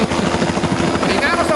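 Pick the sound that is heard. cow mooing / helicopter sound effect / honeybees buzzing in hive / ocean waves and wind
helicopter sound effect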